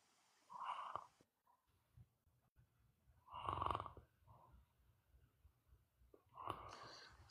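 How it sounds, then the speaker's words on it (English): A person snores in three slow, rasping snores spaced a few seconds apart, each a rough buzzing inhale, quiet and alone with no talking. "Somebody is snoring."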